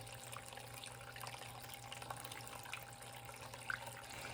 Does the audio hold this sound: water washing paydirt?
yes